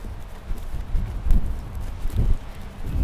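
Horse hooves thudding in soft clip-clop on a riding circle during a trial ride of a new horse, low and muffled, with a few stronger beats standing out over faint background rustle.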